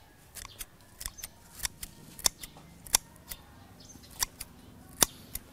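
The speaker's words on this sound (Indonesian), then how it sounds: "Nah, ini kita gunting seperti ini" Scissors snipping dried sambiloto herb into small pieces about a centimetre long, a series of sharp, irregular cuts close up and fairly quiet, with no talking.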